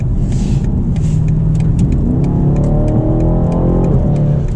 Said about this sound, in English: here we can accelerate on the highway